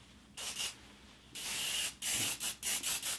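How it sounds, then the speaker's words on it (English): A hairspray can hisses in a run of short bursts, first two quick sprays, then a longer steady one, then several rapid puffs, all close and fairly loud as hair is styled. "So we're just going to go through and spray."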